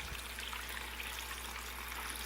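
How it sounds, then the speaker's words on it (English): A small 12-volt hydroponics pump pushes nutrient water into a tabletop ebb-and-flow tray, a faint steady trickle and splash over a low motor hum, continuous and close, without talk. "I'm plugging this in, and you can see the water's coming, the nutrients coming out."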